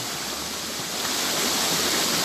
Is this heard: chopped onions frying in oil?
no